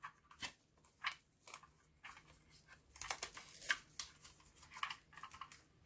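Adhesive tape is torn and pressed down onto a Black & Decker handheld vacuum battery pack in a series of short crackling rips and rubs, close and fairly quiet, with no talking.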